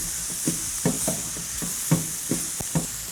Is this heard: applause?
no